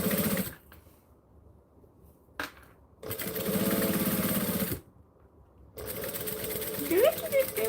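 A sewing machine runs in bursts while back stitching a seam, its motor whirring loud and steady, then pausing and starting again, with a person talking over parts of it.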